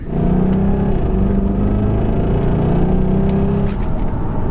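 A Jaguar XKR being driven, heard from inside the car: a loud, steady low engine drone and road rumble with a slight rise in pitch, continuous and close throughout.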